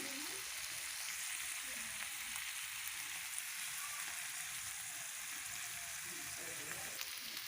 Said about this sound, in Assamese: আদা নহৰু গোন্ধটো যোৱালৈ ভাজিব লাগিব এইখিনি